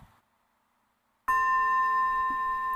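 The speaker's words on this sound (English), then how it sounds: "I'll bring us out with a double gong" A meditation gong struck once, its loud bright ring starting suddenly after near silence and sustaining with a long steady shimmer, a second soft strike swelling in partway through as it fades slowly.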